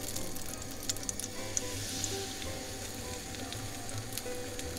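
Crepe batter fries in butter in a pan for a Florentine-style crepe, giving a steady, soft, close sizzle with no talk.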